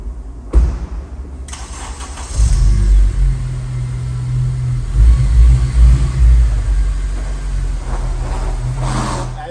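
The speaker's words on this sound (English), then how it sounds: "Let's move the car forward" An 8th-generation Honda Civic Si starts with a sharp catch and settles into a close, steady idle that swells slightly as the car creeps forward, loud and alone without talk.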